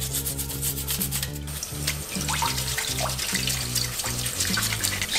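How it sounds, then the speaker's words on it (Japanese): Toothbrush scrubbing a wild oyster shell, rapid rhythmic rubbing strokes close up, mixed with running water and a low repeating background hum. "細かいところは歯ブラシで洗っていきます。"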